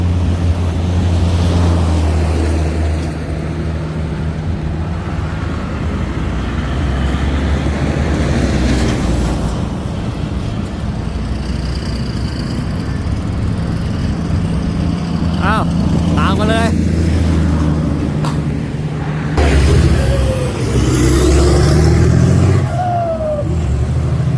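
A pickup truck with an aluminium cargo body pulls away, its engine rumbling and revving steadily under loud ambient noise, while people talk over it and occasional whistles or squeaks cut through.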